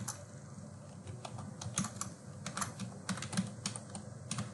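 Someone types a short message on a computer keyboard while composing a Gmail email, irregular clusters of crisp key clicks sounding close but fairly quiet over faint room noise.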